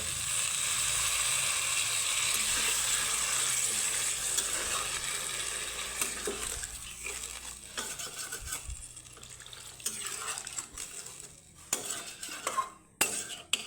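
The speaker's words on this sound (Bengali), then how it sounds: "এখন আমি দিয়ে দিব জল দিয়ে দিব জল" Water hits a hot pan of spiced oil with panch phoron for a Bengali rui fish curry: a loud, hissing sizzle that slowly dies down, followed by clinks of a spoon stirring against the pan.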